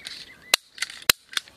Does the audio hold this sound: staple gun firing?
yes